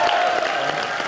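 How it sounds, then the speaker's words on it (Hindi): Audience applause on a comedy show stage, a loud, dense burst of clapping with faint cheering mixed in, brief and continuous. "शकील भाई और श्रुति के लिए जोरदार तालियां हो जाए।"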